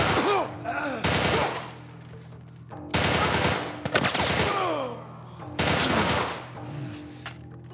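Gunfire in The Last of Us Part I comes in four loud bursts of rapid shots separated by short pauses, with game voices and other sounds in the gaps.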